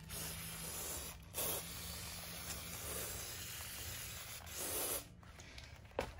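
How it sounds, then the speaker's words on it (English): Finish Line disc brake cleaner sprayed onto a bike disc rotor, a steady close aerosol hiss running throughout with a few louder bursts, no talking. "now we want to give the old rotor a bit of a bath with this stuff."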